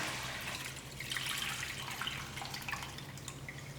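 Millet grain being washed in water, a soft continuous sloshing and trickling with faint drips, close and fairly quiet over a low background hum.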